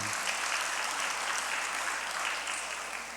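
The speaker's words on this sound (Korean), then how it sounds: "박수 한번 보내주시죠" A congregation applauds during announcements before a church service, giving a steady round of clapping that stays dense and even, then tapers slightly toward the end.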